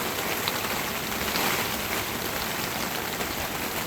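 Heavy rainstorm pouring down outside a chicken coop, a dense steady hiss of rain drumming on surfaces that carries on without a break and with no talk.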